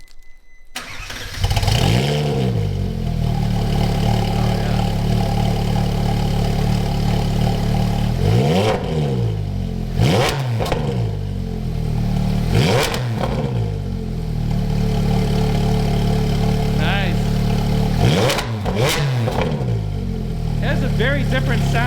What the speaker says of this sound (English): let's hear this Sport Cat F1 IPE exhaust